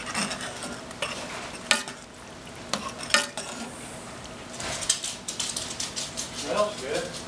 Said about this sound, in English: some chicken broth because I want to make a lot of the gravy. So you let that come to a simmer.